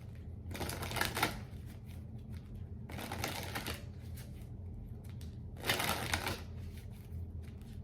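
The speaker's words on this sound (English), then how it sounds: "Let's grab a tarot card for you for Pisces." Tarot cards shuffled and drawn from a deck, three separate bursts of crisp riffling and slapping at a close distance, with quiet pauses between them.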